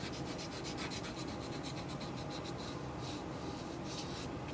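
Oil pastel drags across paper in soft, close rubbing strokes: a quick run of short choppy swipes first, then a few longer, smoother passes, with no voices.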